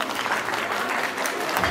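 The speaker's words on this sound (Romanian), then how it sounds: "Aplauze!" An audience at a Romanian folk festival and contest in Bârlad claps in a brief, steady burst of dense applause that fills the whole moment.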